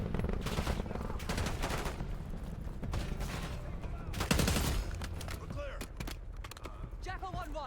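Call of Duty Black Ops 6 gunfight with dense rapid automatic fire and scattered single shots, mechanical clanks and rattles, sustained and loud, with brief chirping effects toward the end.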